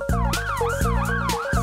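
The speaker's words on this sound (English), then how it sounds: "Police monster truck." A police monster truck siren from a kids cartoon cycles in quick wailing sweeps over a pulsing low beat, loud and continuous for under two seconds.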